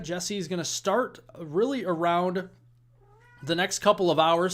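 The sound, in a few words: cat meowing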